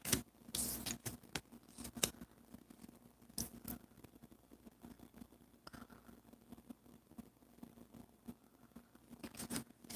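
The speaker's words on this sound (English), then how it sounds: "I'm going to clean up my cards here." Tarot cards are gathered and squared up on a table, giving soft close shuffling, tapping and rustling in quiet, scattered bursts.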